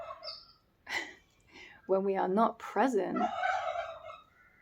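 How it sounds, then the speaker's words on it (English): A goose calls nearby with a few loud, harsh honking bursts in quick succession, then falls quiet. "I think that's the goose."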